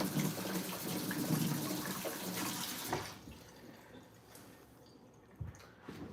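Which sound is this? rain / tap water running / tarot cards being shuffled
tap water running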